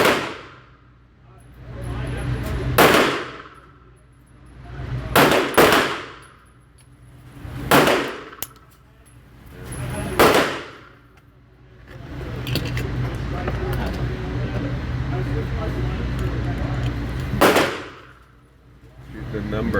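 Loud, sharp gunshots from a SIG P365X pistol fired at a target on a range, five or six single reports spaced a few seconds apart, each ringing out briefly, with a voice speaking between some of the shots.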